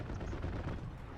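Heavy artillery-style cannon fire in the WWII shooter Hell Let Loose on the El Alamein map, a dense, rumbling barrage of booms and gunfire filling a short burst with no pause.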